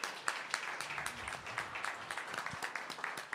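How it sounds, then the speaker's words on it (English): Audience applause after closing statements at a Bible debate, a steady patter of many hands clapping at moderate distance with faint crowd murmur, lasting the whole stretch. "Let's give them a round of applause."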